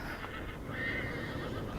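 Wild horses during a roundup at Sand Wash Basin: a horse's whinny rises in the middle of the clip, fairly distant and moderately quiet, over a steady outdoor wash with a hint of hooves.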